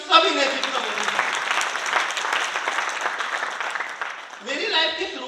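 Audience in a Delhi motivational seminar hall bursts into loud, sustained applause lasting several seconds, a dense wash of clapping that fades slightly before a brief renewed swell at the end.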